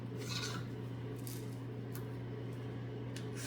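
Rechargeable salt and pepper grinder with an adjustable coarseness base, grinding steadily for a few seconds: a continuous close motor whine under a fine gritty rasp of crushing grains.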